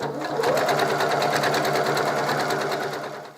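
A sewing machine runs continuously at a steady fast rhythm while stitching a hem on fabric, loud and close, then slows at the very end.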